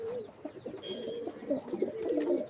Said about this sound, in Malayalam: ഇതാണ് ഓസ്ട്രേലിയൻ ഗോൾഡ് പ്രാവവ